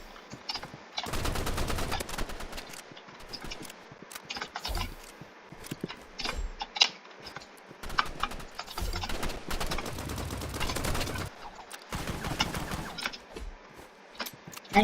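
Rapid assault rifle bursts in the Rivals shooter game, loud repeated volleys of gunfire coming in several clusters with brief pauses between them.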